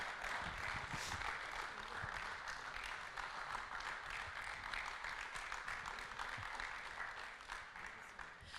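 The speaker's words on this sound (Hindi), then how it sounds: "रुमाना, जोरदार तालियां, क्योंकि तालियां रुकनी नहीं चाहिए" Audience applauds Corona warriors at a celebration event, dense sustained clapping from a large crowd filling the whole stretch, fading slightly at the end.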